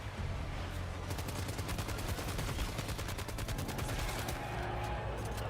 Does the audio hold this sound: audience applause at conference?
no